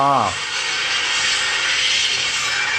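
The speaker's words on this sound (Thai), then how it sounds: "เร่งเครื่องรอ" A video-game car engine revs to a high, sustained whine after a brief voice at the start, holding steady and loud throughout.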